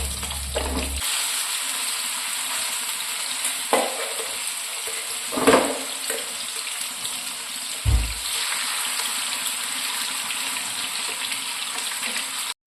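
Fish pieces for a Kerala-style fish pickle fry in hot oil, giving a steady, close sizzle that runs throughout, broken by a few brief clatters of handling or stirring.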